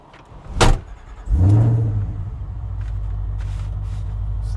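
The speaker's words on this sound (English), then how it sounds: "I'm going to fire this thing up. We're going to go for a drive" A 1967 Chevy C10 pickup engine cranks with a brief whine, fires up with a deep rumble, then settles into a steady low idle and drives off, loud and near; a door thud comes just before.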